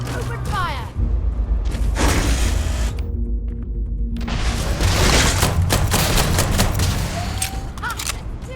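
Sustained, loud gunfire from a firefight in the video game Starfield, rapid volleys and booming shots layered densely for several seconds with brief lulls, a voice briefly heard amid the shooting.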